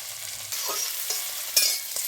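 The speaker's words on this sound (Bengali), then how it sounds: "মটরশুঁটি, গাজর, ক্যাপসিকাম এগুলো সব ভেজে নিচ্ছে।" Peas, carrots and capsicum fry in a pan for fried rice with a loud, close sizzle, and quick stirring scrapes cut through it.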